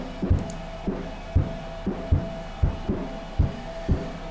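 A drum kit pattern runs through the Airwindows GoldenSlew plugin, which gives a vintage, rounded tone. Kick and snare hits fall in a steady groove with a slightly darker, smoothed attack.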